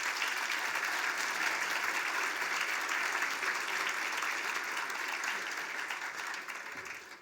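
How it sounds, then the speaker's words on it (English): Steady, dense applause from a crowd at an awards ceremony fills the whole stretch at an even level, tapering off slightly at the very end. "Round of applause for Meals on Wheels."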